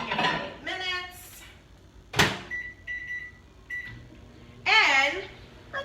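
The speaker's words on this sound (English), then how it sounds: "we are going to actually put this in the microwave for 8 minutes" A microwave holding pasta is loaded with a sharp door thump, followed by a few short electronic beeps as it is set for eight minutes, while a person talks over the sounds.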